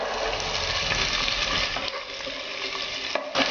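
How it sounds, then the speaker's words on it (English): Thinly sliced onions fry in heated oil for a Mangalorean methi pulav, giving a steady broadband sizzle with faint stirring scrapes. The sound is close, continuous and fairly loud, easing slightly partway through, with no voices. "So I'm dropping the sliced onion here."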